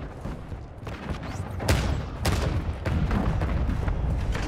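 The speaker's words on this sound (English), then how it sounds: "Hostile mortar." Mortar fire in Modern Warfare 2 Invasion mode, heard as sharp heavy blasts and booming impacts amid a continuous roar of battle, loud and close.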